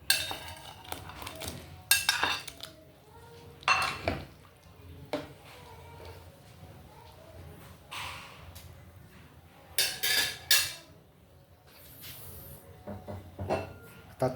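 A spoon clinks and scrapes against a cooking pot while pork sinigang is stirred, giving scattered sharp metallic taps and knocks over a quiet simmering background.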